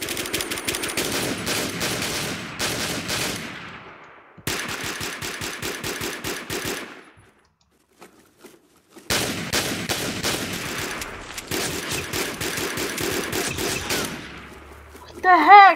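Rapid automatic gunfire in the Warmode video game, loud sustained bursts broken by a few seconds of near silence before firing resumes, with a short electronic tone at the end.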